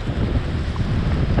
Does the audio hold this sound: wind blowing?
yes